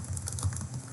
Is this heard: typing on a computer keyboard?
yes